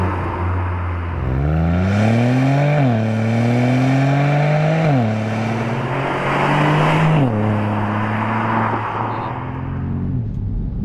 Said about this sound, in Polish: Słyszycie, jak pracuje turbosprężarka, słyszycie także, jak oczywiście pracuje wydech